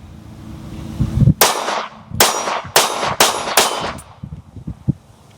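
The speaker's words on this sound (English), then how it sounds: "Quick 5 shots on steel." Five quick pistol shots from a Glock 19X each ring off a steel target in rapid succession, loud and sharp at close range. A few softer clinks and thumps follow as the shots end.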